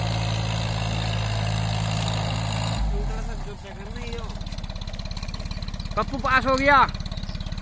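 A John Deere 3028 EN 28 hp 4WD mini tractor pulling a 5x5 offset disc harrow runs with a steady low engine drone that shifts and bogs partway through, close by, with people talking over it.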